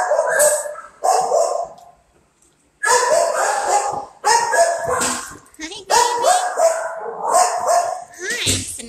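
Several dogs bark and yip loudly at close range inside an animal shelter kennel, in repeated overlapping bursts separated by brief pauses, with echoing hard surroundings.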